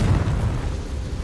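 A Confringo spell explodes in Hogwarts Legacy as a single deep, rumbling blast. It is loud and close and fades quickly.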